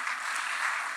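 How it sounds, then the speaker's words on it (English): A brief burst of continuous audience applause at a business forum, a steady wash of clapping with no break. "Please keep clapping."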